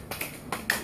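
Fingers alone clap together in a few quick, soft, bright taps, close and isolated with no talking.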